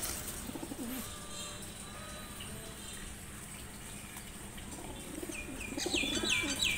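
Giribaz pigeons, female birds, cooing nearby in soft repeated murmurs, with a faint trickle of water underneath and a few higher bird chirps toward the end.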